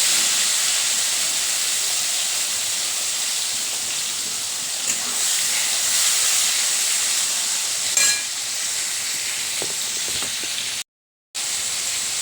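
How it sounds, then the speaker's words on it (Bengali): Pointed gourds (potol) fry in a pan with an even, continuous sizzling hiss that holds steady throughout, broken by a brief total silence near the end. "পটলগুলোকে একটু ভেজে নিচ্ছি।"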